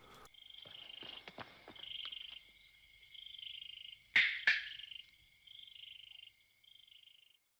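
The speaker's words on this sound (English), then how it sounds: "These devices, issued in the thousands to American paratroopers just before D-Day, were called clickers, or crickets." Metal cricket clicker, a modified British children's toy issued to American paratroopers for D-Day signalling, snapping in a series of sharp clicks, two loud close ones standing out over a steady insect-like chirring background.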